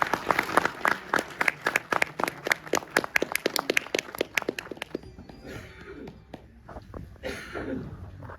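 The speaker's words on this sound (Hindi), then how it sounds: "तालियां बजती रहें।" Clapping at a Delhi Police retirement party, a run of sharp, fairly loud individual claps in steady rhythm for about five seconds, then fading into quieter room noise and murmured voices.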